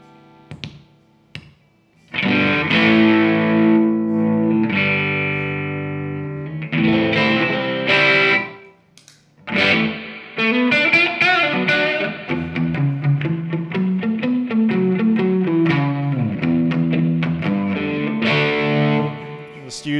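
Electric guitar run through a Holy Grail reverb pedal in an amp's effects loop, playing distorted chords and single-note lines with a reverb wash, loud and steady after a few short opening plucks.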